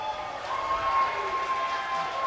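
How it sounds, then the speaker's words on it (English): A crowd at an esports LAN event cheers and applauds in a brief burst, a dense wash of clapping and voices with a thin steady tone running over it. "the crowd, yeah, cheering on a G6 there"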